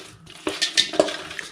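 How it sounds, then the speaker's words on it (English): Chicken wings are stirred in a bowl with mango pineapple habanero glaze, giving a quick run of four or five sharp clinks and scrapes of a utensil against the bowl, close and clear with no voices. "just stir it around"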